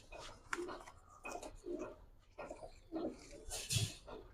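Pigeons coo in a loft of female racing and colored fancy birds, several soft throaty calls in uneven bursts close by, with faint voices and rustling.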